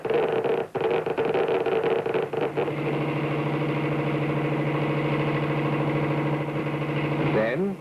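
A diesel engine running steadily, a continuous droning hum with a strong tonal character that holds at an even level for several seconds.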